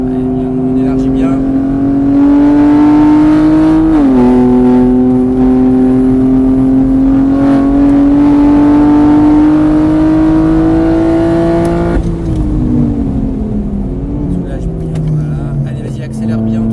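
A car accelerates hard, its loud, close engine note climbing steadily in pitch across two long pulls, with a brief dip between them as it shifts or lifts, and a drop-off at the end.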